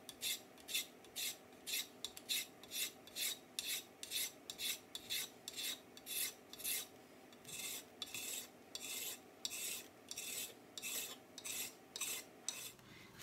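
Rhythmic scraping on an Ochsenkopf Iltis axe handle as a scissors tip is drawn across the wood, repeated dry strokes in steady bursts, close and fairly quiet with no talk.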